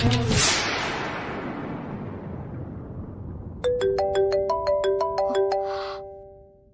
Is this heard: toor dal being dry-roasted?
no